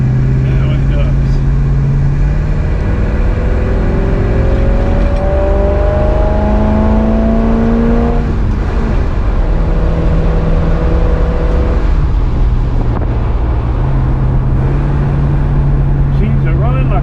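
A Chevrolet Impala engine fitted with a new voltage regulator runs loud and close, its pitch rising and falling through several revs over a steady rumbling idle.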